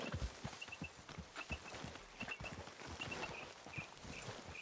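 Horses walking in the video game Red Dead Redemption 2, with a steady, fairly soft clip-clop of several hooves close by and no one speaking over it.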